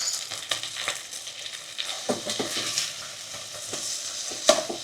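Chicken pieces frying in a pan for Kung Pao chicken, a soft steady sizzle with scattered crackles and light scraping as the pieces are turned, fairly close, no voices.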